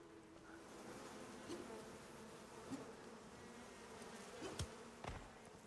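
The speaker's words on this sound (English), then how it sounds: "I hear the bees" Bees in a bee cave in a video game buzz in a steady drone, with a few brief clicks and knocks on top, faint and continuous throughout.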